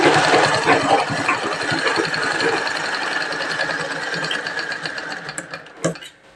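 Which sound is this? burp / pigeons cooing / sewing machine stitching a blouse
sewing machine stitching a blouse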